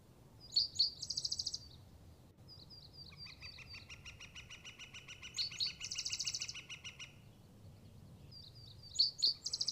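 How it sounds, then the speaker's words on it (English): Morning birdsong at a cliffside camp on the Mogollon Rim: several birds trade repeated high chirps and trills in short bursts, moderately close, over a faint steady hush with no talking. "I hear some birds I've never heard before"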